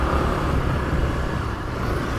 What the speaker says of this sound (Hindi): देख रहे हो आप कितना ट्रैफिक जाम लगा हुआ है।